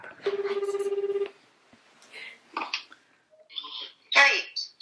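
A telephone rings through a speakerphone in a short, fast-pulsing burst of about a second, followed by a few quieter beeps and people speaking nearby.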